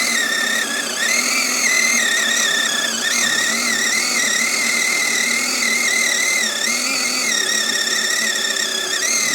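A continuous high-pitched motor whine from a battery-powered electric chainsaw, steady and loud, with slight pitch dips as if under load while cutting wood, running the whole time without pause.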